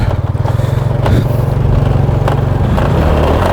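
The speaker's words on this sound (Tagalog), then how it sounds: "Ang daming motor dito mga kaibigan." Motorcycle engines roar close by on a steep, slippery uphill road on Mount Ugo, a loud, steady low drone with a pulsing putter that stays strong throughout.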